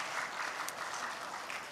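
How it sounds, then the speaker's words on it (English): Conference audience applause at a maritime green-shipping and sustainable-energy event. A steady, moderately distant patter of many hands clapping runs evenly through the clip, with no talk over it. "We give applause for ITS and Professor ICMaD Ariana."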